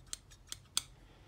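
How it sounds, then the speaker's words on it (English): A small pair of scissors is handled, giving three sharp, quiet metallic clicks spaced a fraction of a second apart against near silence. "We've got a little pair of scissors."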